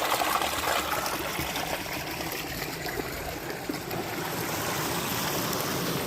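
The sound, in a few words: water flowing from an opened valve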